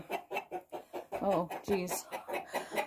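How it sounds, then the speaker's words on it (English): Hens and roosters on a farm cluck in a steady, close, rhythmic run of short calls, while a person briefly speaks over them. "I got some roosters bothering the hens"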